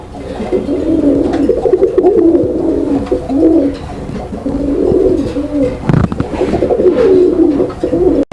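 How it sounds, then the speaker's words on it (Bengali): Several Indian kagji pigeons coo close by in repeated low, throaty phrases, overlapping in a steady rhythm with brief pauses and a few soft rustles. "এখানে আরও এক জোড়া কবুতরের কালেকশন রয়েছে"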